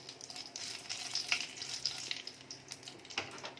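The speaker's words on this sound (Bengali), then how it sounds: "সেম তেলেতেই আগে আমি দুটো শুকনো লঙ্কা নিয়ে নিলাম, ওটাকে হালকা করে আগে একটু ভেজে নেব।" Dry red chillies and a bay leaf frying in oil, giving a faint, continuous crackling sizzle with brief sharper pops, close by and with no voices.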